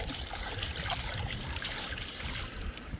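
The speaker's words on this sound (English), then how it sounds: "clean them in the creek" Wild ramps being rinsed in a creek, with continuous close splashing and trickling water and irregular sloshes from hands working the greens in the stream.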